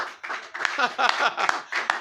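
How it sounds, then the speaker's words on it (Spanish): Rhythmic clapping from an evangelical church congregation during a sermon, a handful of sharp claps on a regular beat, mixed with a voice speaking over them. "Denle un fuerte aplauso al Señor."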